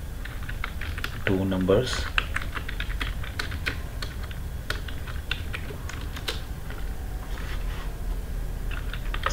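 Rapid, irregular clatter of keys as C code is typed on a computer keyboard, close and steady throughout, with someone speaking over the keystrokes.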